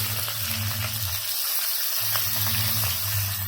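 Sliced onions hit hot oil in a wok, giving a loud, steady sizzle and hiss that dips briefly mid-way before surging back, with no talking.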